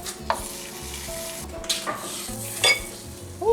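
A chaffle mixture is stirred as it cooks, giving a steady sizzle with scraping and a few clinks of utensil against the pan, close and fairly loud.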